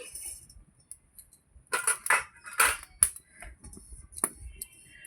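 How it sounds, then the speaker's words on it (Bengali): A metal kadai (wok) is set down on a stove with a few sharp metallic clanks and rattling knocks in quick clusters, separated by near silence. "এবার আমি কড়াইটা আমার বসিয়ে দিচ্ছি"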